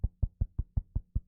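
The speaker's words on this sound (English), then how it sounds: "this is the sound of me patting him on the head" A hand pats a plush toy on the head, seven soft, evenly spaced muffled thumps close by with no talk.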